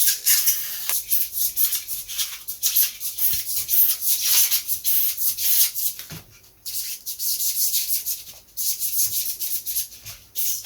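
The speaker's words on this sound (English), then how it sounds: "You notice I'm cutting out the easy bit at the moment." Scalpel or craft knife cutting out a straight section of a part for a Lunak aerobatic vintage glider model, a steady series of scratchy, rasping strokes close by with short pauses between them.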